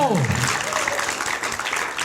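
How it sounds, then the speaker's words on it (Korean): Studio audience applause on a Korean talk show, a steady wash of clapping lasting about two seconds, with a voice briefly over the start. "박수 한번 좀 부탁드리겠습니다"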